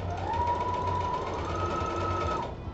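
A sewing machine fitted with a 1/8 narrow rolled hem presser foot runs in one steady, close whirring stitch burst of under three seconds, with no talking.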